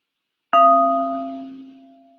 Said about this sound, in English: I'm going to ring my bowl, and hopefully you can hear this